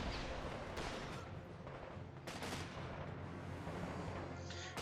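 An Ostwind anti-aircraft gun fires in Company of Heroes 2 as a faint, distant string of repeated thumping shots over a low battlefield rumble.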